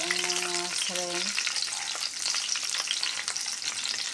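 Shrimp hit a hot pan with browned garlic and fry in a steady, busy sizzle, with a short burst of tonal speech-like sound near the start.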